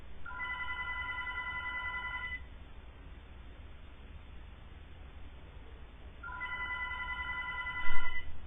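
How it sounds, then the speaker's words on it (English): A doorbell rings in two long repeated bursts of bright, steady chiming tones, with a quiet pause between them and a short thump at the very end. "Ringing the doorbell like mad."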